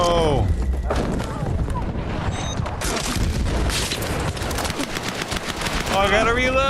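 Gunfire in the PUBG video game, a burst of loud booming shots and rapid bangs through game audio, with a voice talking over the action.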